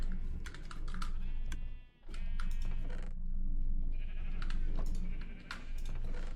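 Sheep on a Minecraft sheep farm bleat in several short, nasal calls spread across the clip, mixed with a steady clatter of computer keyboard typing; no one speaks.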